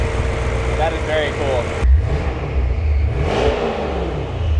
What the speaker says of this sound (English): Dude, it sounds like a truck.